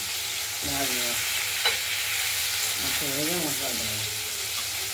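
Potatoes sizzling steadily in a hot pan for a potato dum, with a continuous bright frying hiss and occasional stirring; a voice speaks briefly over the cooking sound.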